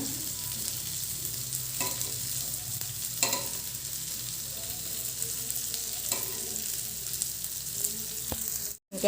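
Okra (ladies finger) fries in a pan with a steady, close sizzle, broken now and then by brief scraping stirs, with no talk.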